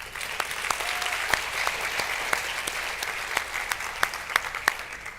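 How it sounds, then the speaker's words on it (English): Audience at an evening pageant claps for the judges, a steady moderate patter of many hands with a few sharp louder claps standing out, no voices over it. "Let's give a round of applause for the judges this evening as they have helped us prepare."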